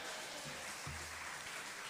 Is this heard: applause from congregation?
yes